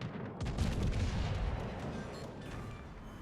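Naval guns fire a broadside in the naval combat game World of Warships: Legends, a heavy rolling boom of several overlapping shots that swells early and then trails off into a rumbling decay, with no talk.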